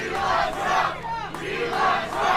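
Rhythmic chanting from a large crowd at a Ron DeSantis event, loud and close, rising and falling in repeated shouted phrases over about two seconds.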